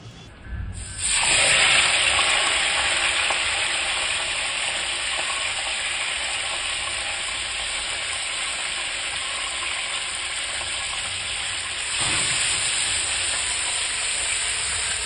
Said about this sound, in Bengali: তেল গরম হয়ে গেছে, তেল কড়াইয়ের গায়ে লাগিয়ে দিলাম পুরোটা। চলো মাছগুলো দিয়ে দিই।